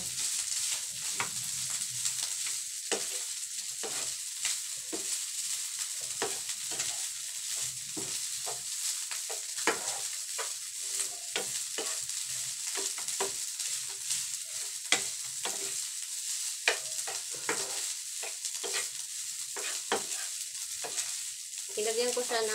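Rice stir-fried with chicken and vegetables in a pan, a continuous soft sizzle broken by frequent scraping and tossing strokes of a spatula, close and steady with no talking.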